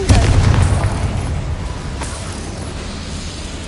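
A Confringo spell blast in Hogwarts Legacy lands as one loud, deep boom that rolls off into a long, fading rumble, with no voices over it.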